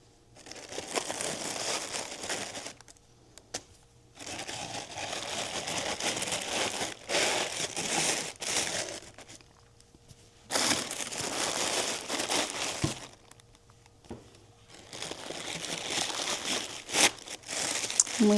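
Tissue paper is crumpled and crinkled in long bursts separated by quiet pauses as it lines a shipping box for candles, close and moderately loud.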